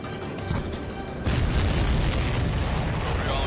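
A supply ship blows up in the flight game Ace Combat 7, a loud sustained boom that swells suddenly about a third of the way in and keeps rumbling as a dense, roaring blast.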